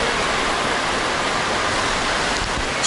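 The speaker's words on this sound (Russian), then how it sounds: "И вот здесь прям сливается вода." Steady rushing of water pouring into a pool at an indoor water park, a broad continuous splashing hiss like a small waterfall, close and fairly loud, with no voices over it.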